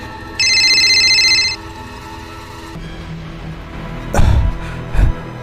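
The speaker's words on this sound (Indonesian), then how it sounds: "Suara telepon rumah berdering dengan kencang." A landline telephone gives one loud electronic ring lasting about a second, followed by quiet room noise and a couple of dull thumps.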